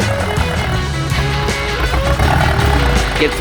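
A small five-horsepower engine runs close by with a loud, steady, throbbing drone that carries on throughout, with no clear pauses.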